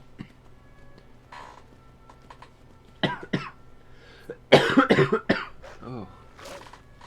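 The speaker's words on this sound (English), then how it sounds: "Sorry, I've got a bit of a cough today." A streamer coughs a few times close to the mic during a Skyrim session, sharp bursts in a short cluster after quieter speech and light game sounds.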